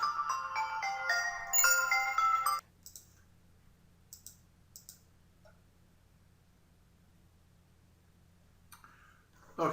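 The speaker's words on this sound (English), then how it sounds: "now my phone's ringing" A mobile phone ringtone plays a bright, repeating melodic pattern for about two and a half seconds, then cuts off, leaving a quiet room with scattered faint clicks and a brief tone near the end.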